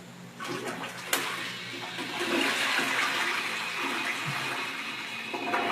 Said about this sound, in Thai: แล้วก็กดชักโครกตามเดิมนะครับ